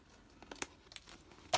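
Scissors cutting through a cardboard file folder: a few sharp, crisp snips at irregular intervals, close by and fairly quiet, with no talking.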